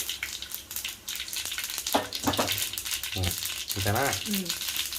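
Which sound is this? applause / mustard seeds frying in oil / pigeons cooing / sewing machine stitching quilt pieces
mustard seeds frying in oil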